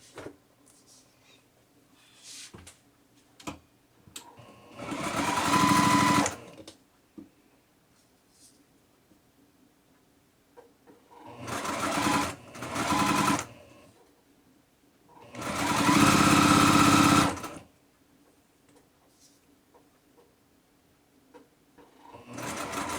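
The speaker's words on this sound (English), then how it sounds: "then we will take it back to the sewing machine and sew our additional pieces" A sewing machine stitches quilt block pieces for a stretched nine patch block in three distinct bursts of rapid whirring, the last one longest, with quiet handling sounds and soft fabric rustles in between.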